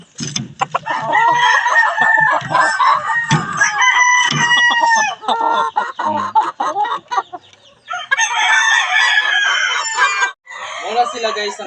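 Chickens and roosters crowd together, loud and close, with repeated crowing and busy clucking layered over one another in a near-continuous farmyard chorus, while people talk now and then.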